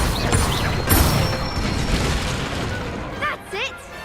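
Incendio fire spell cast in Hogwarts Legacy: a whooshing magical burst with rumbling crackle, followed by shorter spell effects and pitched, chirping magic tones near the end, with game voices over the effects.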